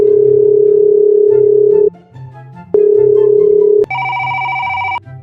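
A phone ringing out while calling a mason: steady tone bursts broken by pauses, then a higher, brighter tone near the end over a faint background hum.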